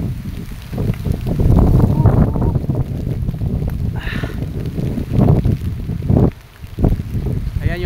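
Heavy wind roars and gusts across a mountaintop, buffeting the microphone loudly and continuously, with brief dips and a voice faintly audible under the noise.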